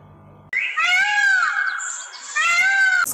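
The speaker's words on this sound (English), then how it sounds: "screaming of the peacock," A peacock gives two loud, piercing, nasal screams in quick succession, each cry long and wailing, heard close and clear.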